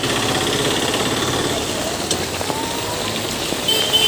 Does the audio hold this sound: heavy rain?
yes